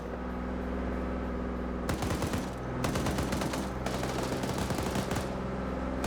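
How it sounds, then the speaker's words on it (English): A tank in a large multiplayer war game match fires back in a sudden burst after a quiet hum, with several rapid, loud, rattling shots in quick succession, then a short pause and another volley. "Tank panic firing in return."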